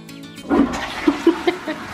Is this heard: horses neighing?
no